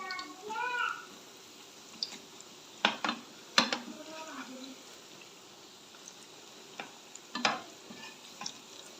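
Gram-flour pakoras frying in oil over a low flame, a soft steady sizzle with clinks of a spoon or utensil against the pan, a few sharper knocks, heard close.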